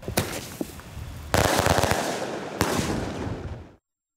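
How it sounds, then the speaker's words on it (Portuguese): Fireworks set off for year-end festivities burst in loud overlapping volleys, with sharp cracks and crackling bangs that swell twice before cutting off abruptly. "os fogos de artifício comuns nesta época podem causar queimaduras graves e até levar à morte"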